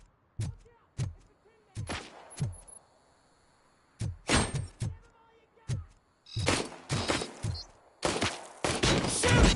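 RoboCop game gunfire pops in scattered single shots and quick clusters, punchy and close, growing denser toward the end with brief quiet stretches between volleys.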